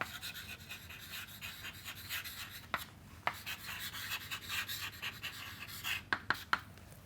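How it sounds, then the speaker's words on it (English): Chalk or marker rubbing and scratching across a lecture board in steady strokes, close and fairly quiet, ending with a few sharp taps. "So, I will write it down"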